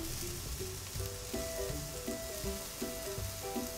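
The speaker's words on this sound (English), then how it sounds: "you hear that sizzle?" Chicken pieces sizzling and frying as they grill in a pan, a steady crackling hiss close by with faint tonal sounds running underneath and no speech.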